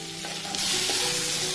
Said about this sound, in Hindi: अब इसमें हम ये आलू ऐड कर देंगे और इनको पहले हाई फ्लेम करके थोड़ा सा भून लेंगे